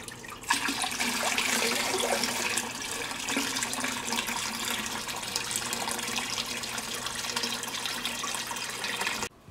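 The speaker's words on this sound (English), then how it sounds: "I'm using this bowl to add water to it." Water pours from a bowl into a sunfish's tank in a steady, fairly loud rushing splash that lasts several seconds before cutting off abruptly, with no voices.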